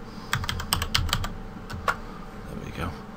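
Rapid typing on a computer keyboard while naming a shape key in Blender, a quick burst of close key clicks, then a few scattered keystrokes against a faint background hum.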